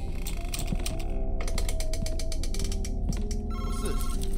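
A phone ringing in the horror game Madison, a rapid metallic bell trill in repeated bursts, loud over a dense mechanical rattling background with no talk.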